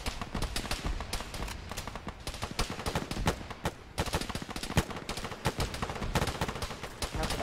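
Dense gunfire in a military video game, rapid overlapping shots and machine-gun bursts sounding continuously from near and far throughout, with no pause.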